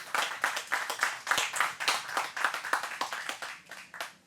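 Audience clapping at a French departmental council signing ceremony, a mix of individual claps with a steady rhythm, close and fairly loud, fading toward the end.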